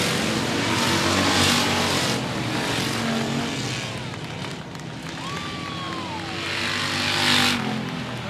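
IMCA Southern United sprint cars roar around the 105 Speedway oval, a continuous loud engine drone swelling and fading as cars sweep through turns, with a crowd-filled, open-air racing atmosphere throughout.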